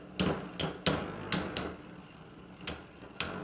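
Beyblade tops clash inside a stadium in a tournament battle, giving about eight sharp, close clacks at irregular intervals, each ringing briefly before fading, with faint scraping between hits.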